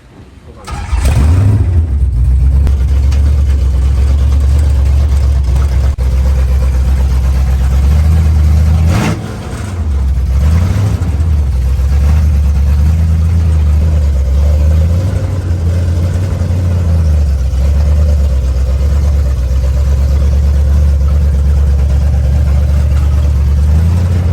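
A supercharged 1956 Chevy drives on the road, its deep, loud engine rumble steady and continuous for the whole stretch with a brief dip in the middle. No one speaks.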